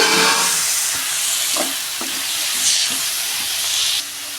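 Tomatoes tipped into a pan of frying onions and garlic, raising a loud, steady sizzle and hiss up close, with a few soft stirring clicks and no talk.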